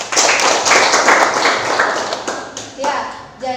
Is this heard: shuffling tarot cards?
no